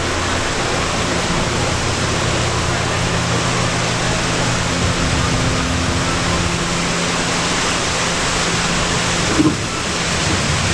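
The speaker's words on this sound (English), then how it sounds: "Waterfall." Steady rushing water from the waterfall on EPCOT's Living with the Land boat ride, a dense continuous wash that fills the whole clip at close range, with a faint low hum beneath.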